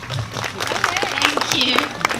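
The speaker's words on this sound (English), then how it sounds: "Round of applause, guys." Scattered applause at a job fair, with uneven claps and crowd noise from a small gathering mixed with overlapping chatter and voices close by.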